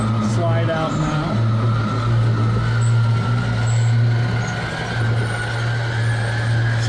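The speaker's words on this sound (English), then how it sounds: "This is an electric slide, so it's a little noisier and a little bit slower than some of the hydraulic ones" An electric slide-out on a 2017 Axis 25.4 RV extends with a steady low motor drone and a faint mechanical rumble, while someone talks over it.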